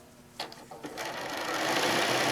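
A sewing machine runs down a quilt seam, starting with a few short stitching bursts and then settling into a steady, continuous whir that builds slightly in loudness.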